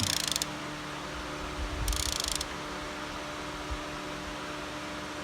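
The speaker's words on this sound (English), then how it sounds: "Now I got a super big ratchet to do this" A foot-long ratchet tightens a fitting on a Jeep Liberty during radiator and tensioner pulley work, giving two short bursts of rapid pawl clicking, close and crisp, against a steady low hum.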